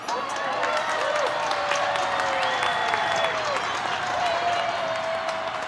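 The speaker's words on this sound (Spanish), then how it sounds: "Gracias, Galáctica Audiencia, por sus aplausos" Steady crowd applause with whoops and cheers running through it, an even, dense wash of clapping that holds at one level from start to finish.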